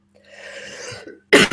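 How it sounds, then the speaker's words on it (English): After a soft, breathy stretch of ambient noise at a quiet meditation retreat, one loud, sharp cough bursts out near the end in two quick pulses. "I think the cough is happening"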